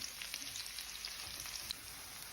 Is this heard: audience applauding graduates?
no